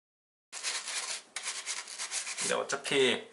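Detergent scrubbing on the underside of a liquid-damaged MacBook Pro keyboard, a close, steady rubbing and brushing that pauses briefly once before continuing, with a few louder scrapes near the end.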